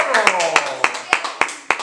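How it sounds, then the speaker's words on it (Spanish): Small audience claps in sharp, spaced bursts for the loser of a quiz-show challenge, with voices talking and cheering underneath throughout. "Vamos a darle un aplauso al perdedor de este reto, Santiago."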